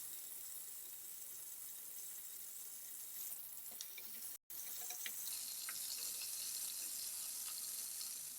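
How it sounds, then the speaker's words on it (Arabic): Chicken pieces fry in a pan as green beans are sautéed, giving a steady, fairly quiet sizzle that runs throughout, broken by one very brief dropout midway, with no talk. "نحمروه مليح على الوجهين"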